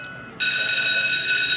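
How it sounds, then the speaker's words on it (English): Bell ringing on a high-limit Lightning Cash slot machine in a casino, starting abruptly as a loud, steady, piercing electronic tone that continues without a break. "you hear that bell?"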